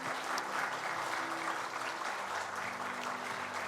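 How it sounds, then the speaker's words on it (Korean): A church congregation applauds during a Sunday joint worship service, a dense, even wash of clapping held steady and moderately loud across the whole stretch, with no voices over it. "큰 박수 보내주시기 바랍니다"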